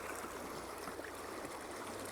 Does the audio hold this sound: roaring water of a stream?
yes